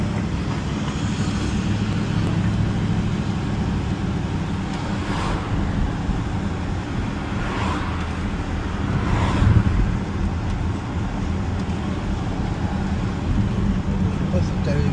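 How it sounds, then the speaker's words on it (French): A V8 diesel car engine runs with a steady low rumble and hum from inside the moving car, with road noise around it and people talking over it. "même un beau bruit ce moteur pour un diesel"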